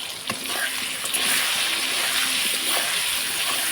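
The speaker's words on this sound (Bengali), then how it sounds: "এখন ওই বেশি তেলের মধ্যে আমি কিন্তু আলু আর গোটা পেঁয়াজটাকে লবণ হলুদ দিয়ে ভালো করে কিন্তু ভেজে নিচ্ছি" Potatoes and whole onions frying in plenty of oil with salt and turmeric give off a bright, hissing sizzle that swells and stays loud, broken by a few soft clinks from the pan.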